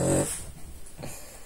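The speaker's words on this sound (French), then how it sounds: "Ma chienne ronfle" A dog snores close by with a loud rasping inhale at the start, then quieter snuffling breaths and a second softer snore.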